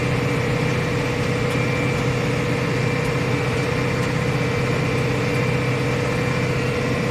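A New Holland T6.175 tractor engine warming up at a steady 2000 rpm on a cold morning, a loud continuous diesel drone with a constant low hum and even mechanical whine, close and unchanging throughout.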